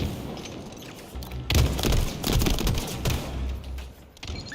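Gunfire in a video game, fast bursts of sharp shots stacked into a dense rattling fusillade that rises mid-clip and keeps crackling over a steady background rumble.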